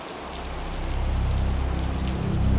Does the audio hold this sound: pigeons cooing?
no